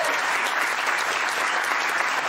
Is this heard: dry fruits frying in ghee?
no